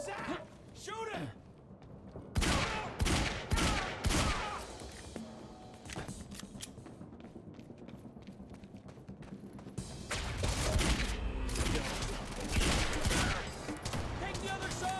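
Gunfire in the Quantum Break video game, with several loud sharp volleys bursting out early and again near the end, surrounded by shouting voices and steady battle din.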